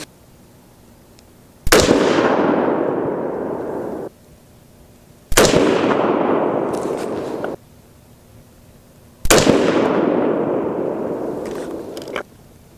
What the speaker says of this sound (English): So I'm gonna try to shoot these basically as fast as I can get away with here.